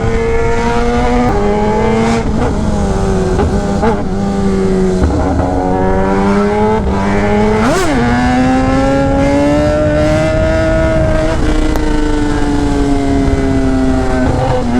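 Superbike engine, a Kawasaki ZX10R or Hayabusa, roaring on a highway during a wheelie, loud and close throughout, the pitch rising and dipping with throttle changes and one sharp rev spike midway, under steady wind rush.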